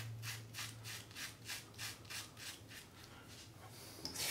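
A cartridge razor shaving skin in short, repeated strokes: about a dozen evenly spaced soft scraping rasps, close and quiet, with no talk.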